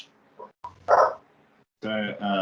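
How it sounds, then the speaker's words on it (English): A dog barks several times in short sharp bursts close by, with a person's voice talking in between. "my girlfriend's sister brought her dog over, and so we have extra barkers today"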